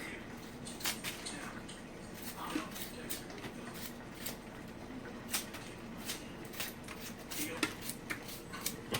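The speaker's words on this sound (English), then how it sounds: "So just cut the skin off." A knife pares the skin off an African yam on a cutting board, giving repeated close scraping and slicing strokes in an uneven rhythm over a low background hum.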